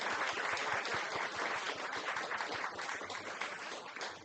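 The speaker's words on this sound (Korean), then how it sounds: "네, 연주해 주신 호태림 학생에게 큰 박수 한번 다시 부탁드리겠습니다." A dense, steady round of audience applause fills the room at a weekend family Buddhist dharma service after a student's musical performance, sustained and fairly even throughout with no talking over it.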